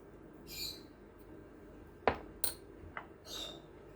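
Utensils mix a salad sauce with salt in a bowl, giving a few sparse, faint clinks and taps against a quiet background.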